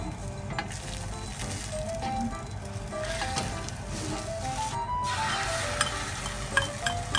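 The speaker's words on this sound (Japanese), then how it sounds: "で、これで卵液が最後巻き終わりだ。" Egg mixture for a crab-omelette-style rolled egg sizzling and frying in a pan as it is rolled, a steady close hiss with occasional light clinks of utensils.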